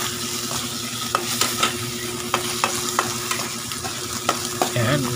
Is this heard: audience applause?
no